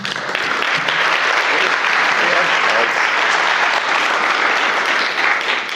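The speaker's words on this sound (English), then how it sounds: "Big round of applause for Craig." Audience at a space industry workshop applauding after a speaker is introduced, a dense, loud, steady clapping that holds for several seconds.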